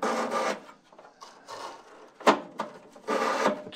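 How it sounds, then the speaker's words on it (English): A 150 grit emery cloth strip is pulled back and forth behind a vintage VW Bug kick panel, making several close, scratchy rasping strokes separated by short pauses and a sharp knock. "I'm just going to take some emery cloth here. I got a strip that's 150 grit."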